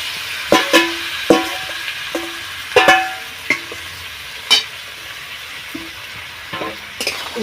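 Banana flower stir-fries in a pan for a Bengali shrimp dish, a soft sizzle punctuated by repeated sharp clinks and scrapes of a spatula against the pan at irregular intervals.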